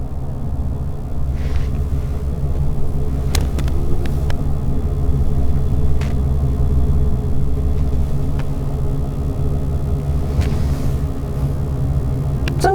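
Road traffic passing a truck from the opposite direction, a steady low engine rumble inside the truck cab with a few brief whooshes and knocks as oncoming vehicles go by.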